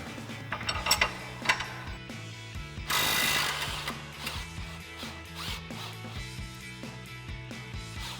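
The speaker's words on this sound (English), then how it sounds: "we'll grab our 18mm socket and our impact again and our 18mm wrench, and we'll remove the upper mounting nut and the lower mounting bolt" An impact wrench with an 18mm socket rattles in short close bursts while removing a sway bar end link nut on a Jeep Wrangler JK during a lift kit install, amid clinks of tools and one longer rattling run.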